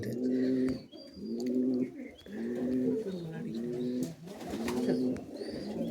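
Benarasi Giribaz pigeon cooing up close, a series of about four or five drawn-out, throaty coos in a steady rhythm, loud and clear with other birds faintly behind.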